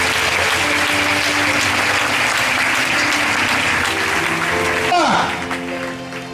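A church congregation bursts into sustained applause and cheering acclaim, a dense, loud wash of clapping and voices that carries on steadily before thinning and fading away over the last second.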